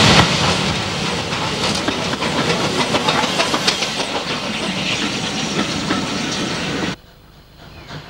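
A Spanish narrow gauge steam locomotive starting a steep climb to the junction at Muro de Alcoy, loud and close with rhythmic chuffing, hiss and rolling clatter that cuts off abruptly near the end.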